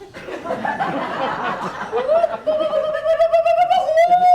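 Bird squawks and coos serve as a sound effect in an audio play of Aristophanes' Birds, with a rising, warbling cry held over a busy clutter of chirps and chuckling calls, loud and close.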